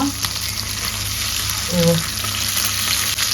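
Fish marinated in mint, green chilli, coriander, curry leaves, salt, chilli powder and lemon sizzles steadily as it pan fries slowly, a constant close crackle with a brief louder stir midway and no talking.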